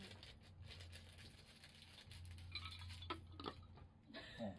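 Crinkly rustling and crackling of a Black Thunder cacao 72% chocolate snack wrapper while someone eats, faint and close, with scattered sharp crinkles over a quiet room.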